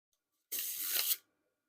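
A deck of Bicycle Eye playing cards is spread into a big face-up fan, giving one brief, close, crisp papery rush lasting under a second.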